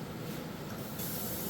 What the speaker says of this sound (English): So we will get this pasta off the heat and drained into our colander.